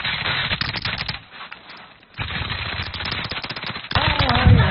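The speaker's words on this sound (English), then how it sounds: "I'm taking fire!" Video game gunfire directed at the player: rapid bursts of close, loud automatic shots in clusters, a short lull, then more sustained firing that swells louder at the end.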